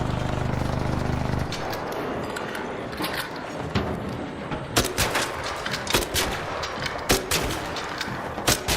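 Video game gunfire, rapid and repeated sharp shots cracking out loudly in irregular bursts over a steady background rumble, with no talking.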